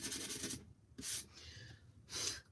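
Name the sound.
sanding edges of wooden kitchen sign board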